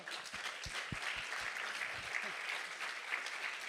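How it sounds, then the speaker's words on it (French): Quiet audience applause at a prize-giving ceremony, even steady clapping lasting a few seconds, heard from a distance. "Ah ben, on peut applaudir."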